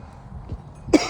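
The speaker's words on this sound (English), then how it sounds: "Excuse the coughing." A single short cough bursts out near the end, loud and close, after a quiet stretch of room noise with a faint low thump midway.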